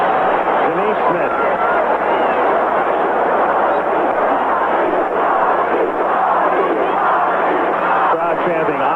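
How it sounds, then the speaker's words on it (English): Baseball stadium crowd at Game 1 of the 1982 NLCS chants a player's name, a loud, continuous roar of many voices filling the whole stretch without a break. "Crowd chanting, Ozzie, Ozzie."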